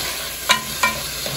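Tomatoes drop into hot olive oil with mustard seeds in a pan, a steady sizzle broken by two sharper hissing bursts as pieces hit the oil, with no talking.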